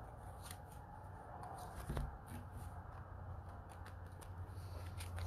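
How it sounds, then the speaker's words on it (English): Tarot cards shuffle and slide as one is pulled from the deck, giving soft papery flicks and riffles, quiet and close against a faint low hum, with one sharper snap partway through. "Let me pull a card for each of those cards."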